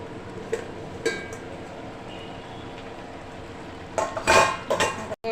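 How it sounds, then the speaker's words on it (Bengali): A metal lid lifted off a cooking pot in a kitchen, a few light clinks early, then a louder clatter and scrape of metal near the end, close and without talk. "দেখো এখন আমি ডাকনাটাকে উঠিয়ে নেব"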